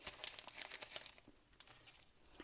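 A small plastic packet crinkles and rustles close up during an unboxing, quick bursts of crackling in the first second, then softer intermittent handling, faint overall with no talk.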